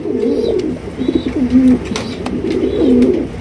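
Loud, close cooing of large Indian Mumbai pigeons in repeated rolling phrases, a low throaty warble that swells and falls with no talking.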